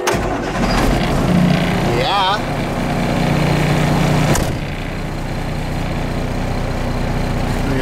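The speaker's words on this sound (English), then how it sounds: "so we'll do a little start up here" Diesel engine of a truck rig starting up, cranking then settling into a loud steady running drone with a brief rev, while someone talks over it.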